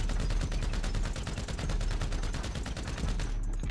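A combat MG fires in GTA 5 Online, a loud, rapid, unbroken burst of automatic gunfire with evenly spaced shots that runs for several seconds and stops abruptly.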